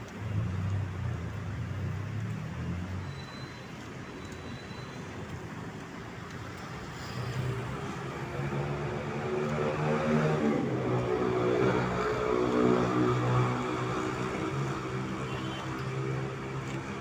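Morning road traffic on EDSA, with a steady wash of car engines and tire roar close by that swells toward the middle of the recording, with no talking.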